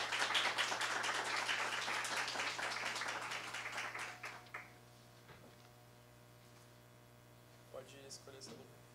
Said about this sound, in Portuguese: Por favor, salva de aplausos ao Hildeu.